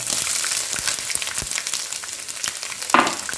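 Chopped ginger hits hot oil already crackling with mustard seeds and curry leaves while a beef pickle is being cooked, giving a close, busy sizzle with sharp pops and a louder burst near the end.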